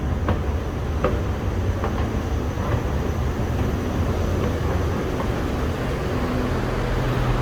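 An electric commuter train on the SRT Light Red Line between Taling Chan and Bang Sue rumbles steadily with a low hum and faint clicks, heard from on board at a constant, fairly loud level.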